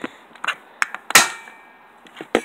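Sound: gunshot from a loaded gun

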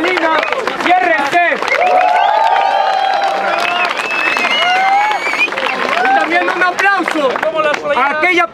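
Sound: crowd applause for freestyle rap judges

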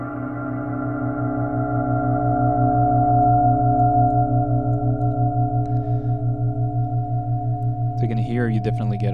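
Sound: reverb feeding into delay in Reason audio software

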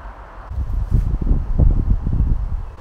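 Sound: wind outdoors rustling leaves

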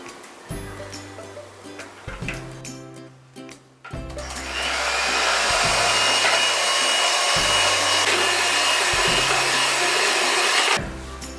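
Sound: Electric beater whipping cream for cake icing

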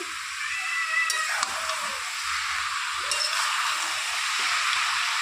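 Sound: rohu fish heads frying in a pan with cabbage

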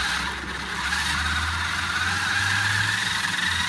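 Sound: old Xmods Evo Hummer H2 RC car at full throttle

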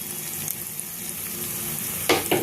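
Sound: fried potatoes with ginger and ground spices stirred in pan

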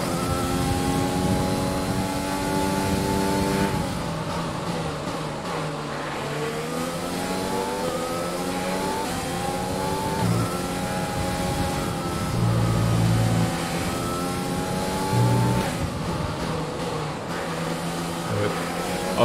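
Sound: Formula 1 car engine racing in video game F1 2020

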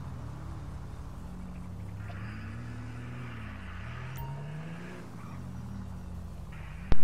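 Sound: Declasse El Camino-style car engine revving in GTA 5 video game

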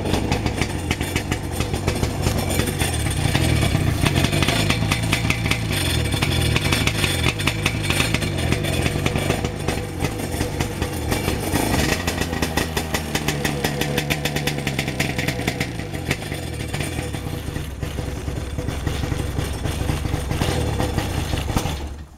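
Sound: 1996 Sea-Doo SPX 117 engine running rough, misfiring

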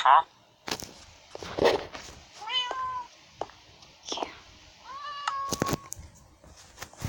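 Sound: cat meowing

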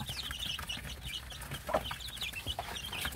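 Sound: Korean native chicken chicks cheeping

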